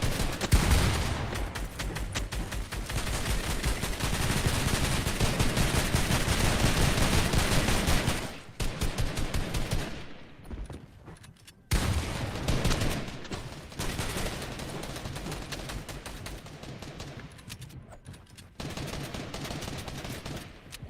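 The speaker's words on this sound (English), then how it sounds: "There's so much gunfire going into play." Rapid gunfire in a competitive Fortnite match, dense bursts of automatic fire and shots layered into a loud continuous barrage that breaks off briefly before resuming, with no talk over it.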